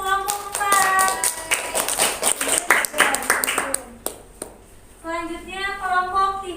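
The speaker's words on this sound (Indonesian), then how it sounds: "tepuk tangan untuk kelompok 4" Group of students clapping in a classroom during a microteaching session, a brisk run of sharp claps that fades out, followed by a voice speaking.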